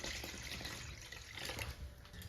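Water pours into a crawfish jerky marinade being thinned with extra water, a steady close liquid splash running continuously.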